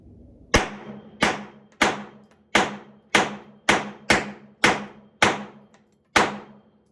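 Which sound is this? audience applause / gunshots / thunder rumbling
gunshots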